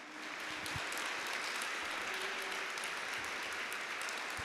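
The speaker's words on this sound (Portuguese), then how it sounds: "Você pode aplaudir ao Senhor." A church congregation applauds during a worship service, with steady, sustained clapping that fills the room at an even level throughout.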